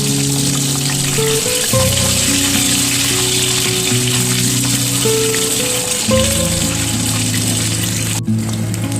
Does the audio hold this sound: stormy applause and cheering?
no